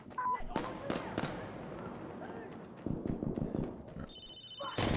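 A Nokia-style cell phone ringtone sounds inside a multiplayer shooter video game, a short bright electronic ring near the end after dull thuds and impacts.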